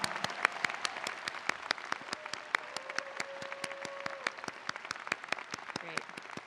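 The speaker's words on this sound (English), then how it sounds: "Let's give these students a round of applause." Audience applause for graduating students at a college convocation ceremony, a steady patter of many hands clapping at moderate distance, with individual sharp claps standing out and a faint voice underneath.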